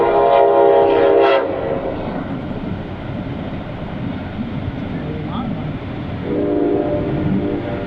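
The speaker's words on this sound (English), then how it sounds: "Oh, I hear a train. Right through there." A passenger train passes near botanical gardens in Melbourne, Florida, sounding its horn in sustained blasts at the start and again near the end over a steady rumble of rolling cars, with a voice talking.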